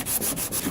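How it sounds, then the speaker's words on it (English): Sandpaper scrapes in quick back-and-forth strokes over body filler near welds on a 2003 Cadillac CTS driver's-side quarter panel, about four close, even passes in under a second. "Need to sand this because this edge was good, but the welding is where it's in question"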